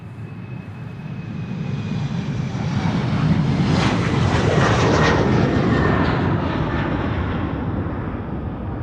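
An airliner passes at Amsterdam Schiphol Airport, its engine roar swelling to a loud, broad rumble at the midpoint and then slowly fading as it moves away.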